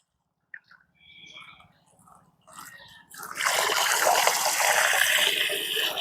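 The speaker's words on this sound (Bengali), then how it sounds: "এই যে জলটা খুলে দিলাম এবার জলটা এরকম করে ফেলে দেবে ওভারফ্লো করে" A tap is opened over lotus plants and water gushes and overflows, starting with a few faint drips and trickles and then swelling into a steady, loud splashing rush that lasts to the end.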